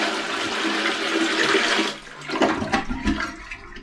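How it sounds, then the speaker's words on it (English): A toilet flushes from water poured in from a bucket, with a loud rush of water, followed by gurgling and draining as the bowl empties. "you see how it just flushed right down, and the water went down quickly"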